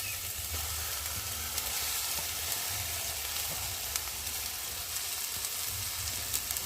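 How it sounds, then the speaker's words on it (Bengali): Steady sizzling of mashed potatoes frying in a pan, continuous and close, with faint stirring scrapes and no voices. "এখন আমি চটকিয়ে রাখা আলুগুলোকে দিয়ে ভালো করে ভেজে নেব"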